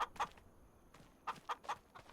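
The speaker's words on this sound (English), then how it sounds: "It says the roosters liven up your chickens. I think they just make noise." Chickens and roosters cluck in the video game Farming Simulator 25, with a few short, close bursts at the start and then a quick run of three clucks after a brief pause, all alone and with no talk.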